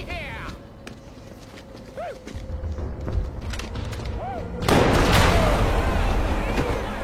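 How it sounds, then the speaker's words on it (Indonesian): A group opens fire in a chaotic city scene from a zombie film. Sparse sharp cracks ring out early, then a loud, dense burst of gunfire and commotion takes over the second half, with a voice speaking over it. "tiba-tiba datang sekelompok orang yang menembaki siapa saja yang mereka lihat"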